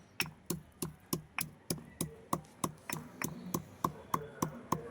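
Coriander seeds and cumin are worked in a stone mortar. A steady run of about fifteen evenly spaced knocks comes from close by at low volume, with no talk.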